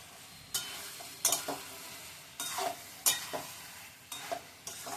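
An egg dish frying in a covered pan, stirred with a utensil in a series of sharp scraping strokes at an uneven rhythm over a low constant sizzle, close by.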